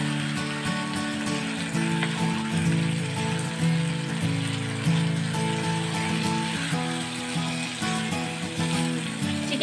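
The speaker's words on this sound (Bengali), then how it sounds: "এবার ভালো করে আমি তেলের মধ্যে মশলা সমেত চিকেনটাকে ভালো করে মিশিয়ে নেব" Chicken with spices fries in hot oil for an easy chicken curry, making a steady, continuous sizzle that stays even throughout, with a constant tonal hum underneath.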